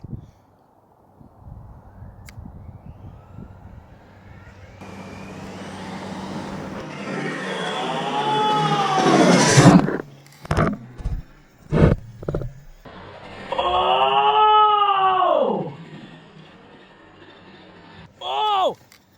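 A HoBao Hyper MT Plus 2 RC truck drives toward a yard. Its electric motor rises in pitch to a loud whine, cuts into several short bursts, then gives one more long revving whine and a final brief burst.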